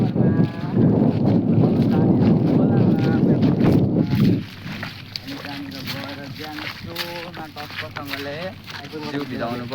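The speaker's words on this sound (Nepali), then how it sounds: "अहिले चाहिँ हामी लोन्द्रा खोला आइसकेको छौँ हावा खतरा चलिरहेको अवस्था" Strong wind gusts at the Londra river, a loud, rough roar that fills the first four seconds and then eases as voices talk over it.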